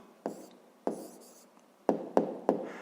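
Pen or pencil writing out a maths answer by hand on paper, a handful of separate sharp strokes and taps, close and fairly quiet, with no one talking.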